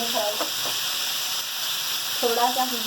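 Raw mango pieces frying in hot ghee, a steady close sizzle throughout with faint stirring, while a person talks briefly over it at the start and end.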